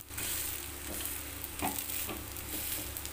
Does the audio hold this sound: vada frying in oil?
yes